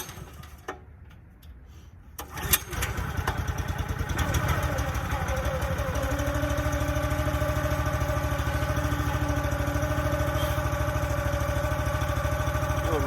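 A Wolferidge 17RS log splitter's small engine cranks with a few sharp pulls, catches, then settles into a steady, loud close idle that drones on alone.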